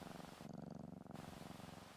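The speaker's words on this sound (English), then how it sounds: "Kitty's purring." Cat purring close up during palpation and acupuncture treatment, a soft continuous rhythmic rumble, quiet and alone.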